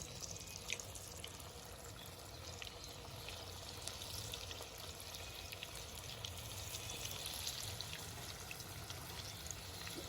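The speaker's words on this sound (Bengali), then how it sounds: "কড়াইয়ের তেলটা আমার গরম হয়ে গেছে, এবার আমি একে একে এই লেগটা মাছের বড়াটা ভেজে নেবো" Loitta (Bombay duck) fish fritters dropped one by one into a pan of hot oil: a steady, faint, continuous sizzle and crackle with scattered pops throughout, no talking.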